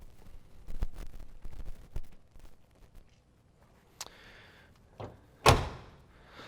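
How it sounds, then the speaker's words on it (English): A 1970 Chevrolet Chevelle SS car door opens and shuts, giving several solid thunks and latch clicks close by, ending in one loud slam over quiet background rustling. "Both doors open and close with these."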